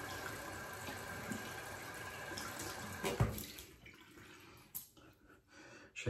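Warm water runs from a tap over a shaving brush, a steady splashing flow that breaks up partway through into lighter trickles and drips as the brush is worked under the stream.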